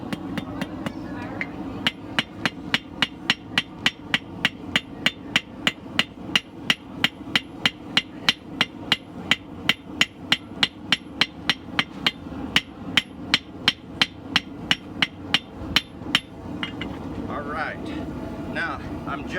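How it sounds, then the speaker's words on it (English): A hammer forging a knife blade on an anvil rings out in a fast steady series of sharp metallic strikes, close and loud, over about fourteen seconds, then stops as faint background noise continues. "Back to this knife that I've been forging on"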